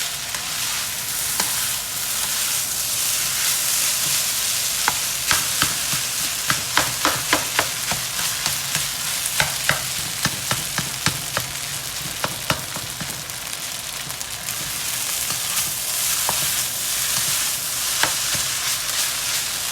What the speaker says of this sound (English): I'm chopping the clumps up before I add the eggs